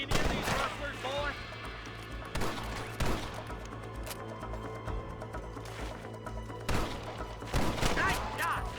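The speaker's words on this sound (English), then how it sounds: "Good shooting, boy!" Western gunfire from Red Dead Redemption cracks out in loud, repeated bursts of shots close by, over a steady hum, with shouting voices mixed in.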